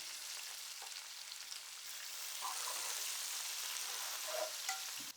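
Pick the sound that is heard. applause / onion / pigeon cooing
onion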